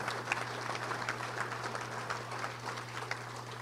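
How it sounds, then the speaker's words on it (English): Audience applause at a Little Rock Touchdown Club luncheon, a soft, steady patter of clapping from a room of people, fairly distant and thin under a constant low electrical hum. "a round of applause to all of our sponsors"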